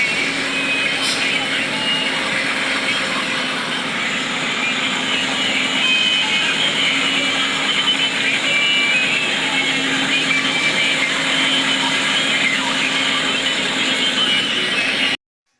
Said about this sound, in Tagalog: Yan po yung ating makina.